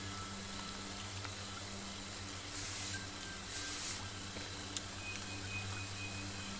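First aid spray in the Friday the 13th video game, brief soft hissing bursts over a steady game background hum, fairly faint.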